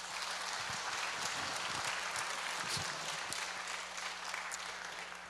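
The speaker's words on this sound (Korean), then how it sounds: "박수로 환영해 주시죠." A church congregation applauds in welcome during a Sunday worship service, a dense, continuous patter of many hands that is faint and distant and stays even for the full span.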